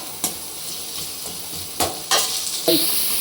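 Onions frying in a pan for chicken liver masala, a steady soft sizzle with a few louder stirring scrapes and clatters spaced through it, close and alone.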